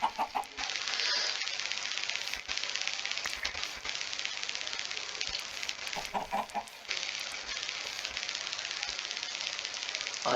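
Chickens in the Minecraft video game cluck in short, repeated bursts, one after another, mixed with clicking game sounds, and no one talks.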